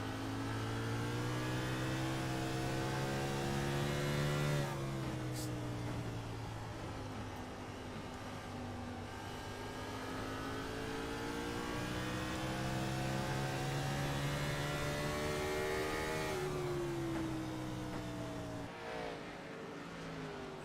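Race car engine at Richmond in a racing video game: a steady, loud engine drone with rising and falling revs as gears shift through the laps, continuous for the whole stretch and without voices.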